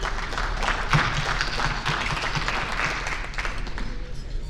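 Audience applause for Hall of Fame and Lohmann Medal recipients at a 2025 ceremony, a steady, dense patter of many hands clapping that holds at moderate level throughout.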